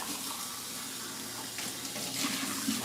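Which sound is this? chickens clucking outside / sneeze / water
water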